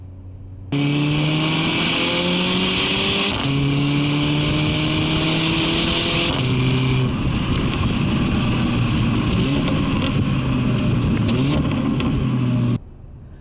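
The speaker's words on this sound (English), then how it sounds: "This car is equipped with the Mercedes AMG Performance exhaust." Mercedes CLA45 AMG turbocharged engine with the AMG Performance exhaust, revving hard through rising gear pulls with shifts and exhaust crackle, loud and close with no talking.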